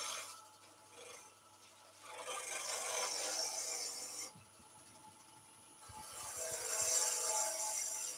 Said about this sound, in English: We are just using a little 1/4-inch bowl gouge there